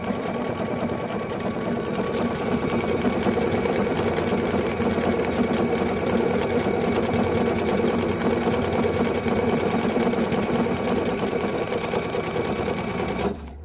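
A sewing machine stitches a heart shape in one steady, loud, uninterrupted run of rapid needle chatter and motor hum, stopping abruptly at the very end, with no voices.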